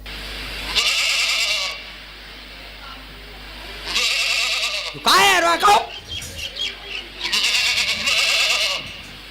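A human voice imitates a young goat bleating, giving several drawn-out, quavering bleats separated by pauses, with excited speech breaking in between, close and loud in a comic performance setting.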